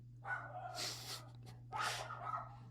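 A dog barks twice at close range, two sharp loud bursts about a second apart, over a steady low electrical hum.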